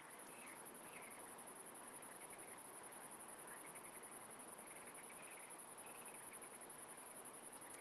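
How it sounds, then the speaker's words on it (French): Crickets chirp in a steady, dense outdoor chorus at night near the Doubs waterfalls, with a constant high trilling over a faint rushing wash and occasional louder bursts. "on a le bruit des grenouilles et des criquets"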